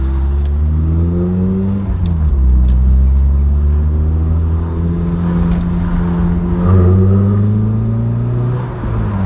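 A 1984 Vauxhall Cavalier Mk2 engine rumbles and revs steadily, rising and falling in pitch as it accelerates and shifts, with a slight echo off buildings while driving through a village.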